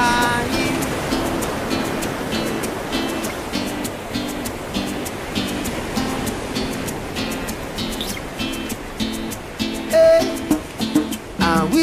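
Ocean surf rolls onto a Hawaiian beach in a continuous wash of waves, loud and steady with swelling surges, mixed with a repeating musical tone and no talking.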